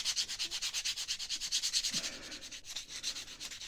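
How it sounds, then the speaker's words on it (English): Sandpaper rubs back and forth over a prop weapon part for a Yor Forger build, a steady rhythmic scratching of even strokes, close and clear with no voices. "I'm going to just quickly sand that down a little bit"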